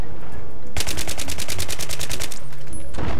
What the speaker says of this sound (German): da wird aber scharf geschossen